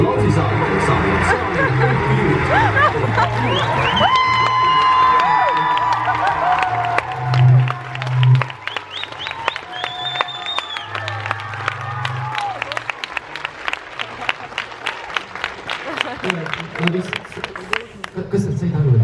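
Audience at an Estonian social media awards gala applauding and cheering as attendees stand, a dense wash of clapping and whoops with music and chatter mixed in throughout.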